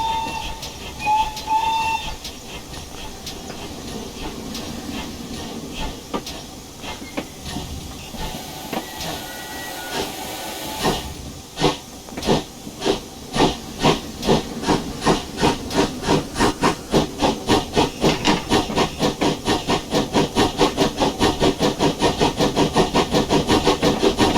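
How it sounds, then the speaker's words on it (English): A GWR Pannier 0-6-0T steam tank locomotive in the Train Simulator Classic game gives a brief whistle, then steady, loud, close chuffing exhaust beats that quicken as it gets under way, with no talking. "it's a really nice sounding locomotive"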